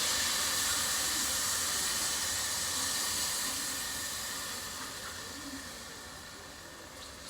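Minced meat frying with roasted broad beans in a pan gives a steady, fairly faint sizzling hiss that fades slowly throughout, with no talking.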